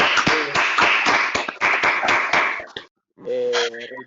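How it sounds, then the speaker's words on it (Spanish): Dense clapping from an audience at a talk, steady and close for nearly three seconds before it cuts off, after which a voice begins speaking. "Michel, un aplauso grande de nuestra parte."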